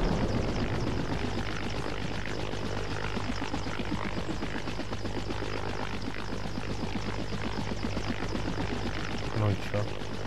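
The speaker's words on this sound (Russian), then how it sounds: "Наконец-то вертолет." A helicopter in the PlayStation 3 game Haze drones steadily throughout, a continuous low rotor and engine rumble mixed with busy game ambience and a voice.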